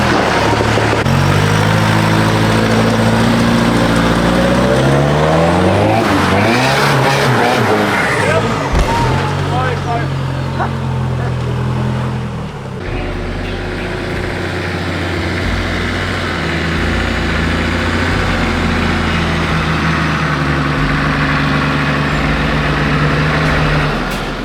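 A solid-axle Toyota Prado engine revs hard on an off-road track, loud and close with rising and falling pitch, tyre noise and a voice talking over it.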